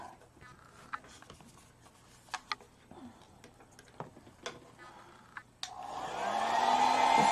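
A hair dryer blows on wet acrylic paint on a Halloween witch painting, switching on suddenly as a loud, steady close-up whoosh after several seconds of quiet taps and small handling noises.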